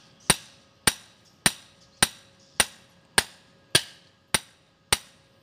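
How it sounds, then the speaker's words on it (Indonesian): A hammer strikes an iron pipe being driven into the ground for electrical grounding, nine sharp metallic blows at a steady rhythm of roughly one every half second to second, loud and close with no talking. "besinya ini tadi kita tokok dengan menggunakan palu atau menggunakan kayu juga boleh ya"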